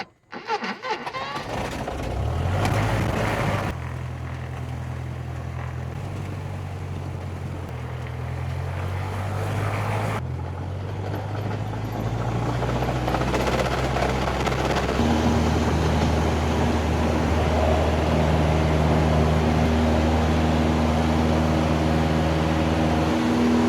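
A small airplane engine cranks and fires up after a pre-flight check, settling into a steady loud drone that builds and holds, with a shift in pitch partway as it runs up.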